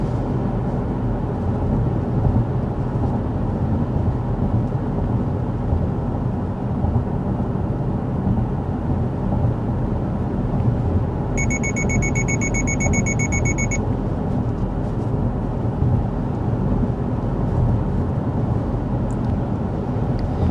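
Cabin of a 2025 Subaru Forester Touring cruising at 55 mph carries a constant, loud low road and wind rumble, with a short electronic warning chime pulsing for a few seconds midway.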